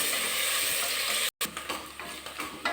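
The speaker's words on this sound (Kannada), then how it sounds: "ಈಗ ಫ್ರೈ ಆಗಿದೆ ವೀಕ್ಷಕರೇ, ತುಂಬ ಚೆನ್ನಾಗಿ ಈರುಳ್ಳಿ ಬೆಂದಿದೆ, ಫ್ರೈ ಆಗಿದೆ" Onions frying in a pan during cooking, a close, steady sizzle broken by a brief dropout, then continuing with some stirring scrapes and crackles.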